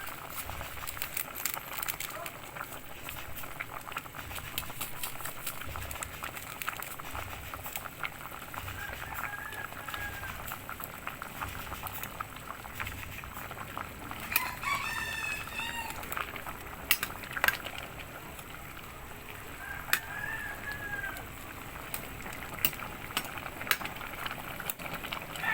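Tuna belly sinigang with miso simmers in a pot with a steady, close bubbling hiss, while a cat meows now and then over the boil.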